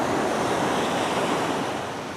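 Sea waves wash ashore at Bekal Beach on a cloudy evening, a close, steady broadband surf roar with wind buffeting the microphone, easing slightly toward the end.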